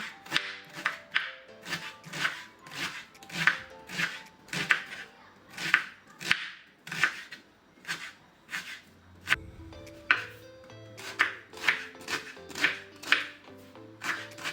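Steady rhythmic knife chops through onion on a cutting board, close and crisp, with a brief pause partway through before the regular chopping resumes.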